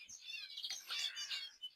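Bengalese finch (emprit jepang) chirping in a rapid, continuous string of high, bright tweets and trills, close and clear with no voices.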